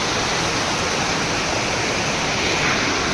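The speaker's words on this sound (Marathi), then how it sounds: "छोटासा धबधबा." A small waterfall near a pool in a stream pours with a steady, dense rushing hiss, close and unbroken from start to finish.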